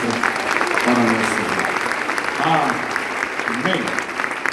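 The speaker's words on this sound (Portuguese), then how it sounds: "Então eu queria que você desse uma salva de palmas" A church congregation breaks into warm, sustained applause during a worship service, clapping evenly with a few voices calling out faintly beneath it.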